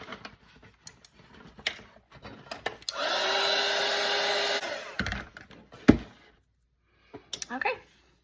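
A hair dryer drying a watercolor painting of a pumpkin and autumn leaves whirs steadily for about two seconds, loud and close, framed by quiet brush and handling sounds and a brief spoken comment.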